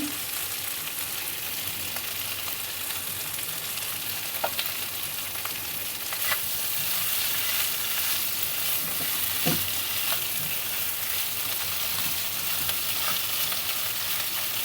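Bhetki fish curry with cauliflower is stirred and sizzles in a pan, a soft steady frying hiss with a few faint scrapes and clinks of the spoon.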